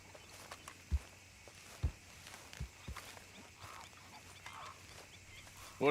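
Chickens in the video game Red Dead Redemption 2 give faint scattered clucks around a few soft footsteps, with a quiet outdoor background and a louder squawk right at the end.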